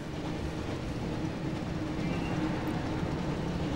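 A steady rumbling train noise in the Harry Potter and the Chamber of Secrets PS1 game, continuous and broadband like a locomotive running nearby, with no voices over it.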